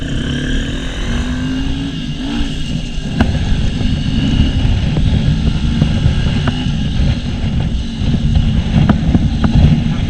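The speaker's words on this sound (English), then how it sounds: "That wind is crazy." Heavy wind buffets the microphone while riding a GPX FSE 250E motorcycle, a loud continuous low roar with engine drone underneath and a few sharp knocks.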